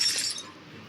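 A frozen block of ice being broken apart, a brief bright cracking and shattering burst close up that quickly fades to quiet.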